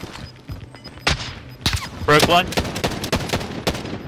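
Scattered gunshots and a short rapid burst crack out in a Call of Duty Modern Warfare Resurgence quads match, mixed with game noise while a player talks briefly.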